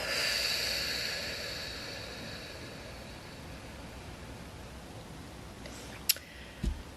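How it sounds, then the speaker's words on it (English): A slow, deep breath: a long airy exhale that fades away into near silence, followed by a couple of small soft clicks. "inhale, hold it, and exhale."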